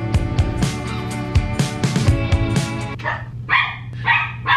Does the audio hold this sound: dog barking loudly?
yes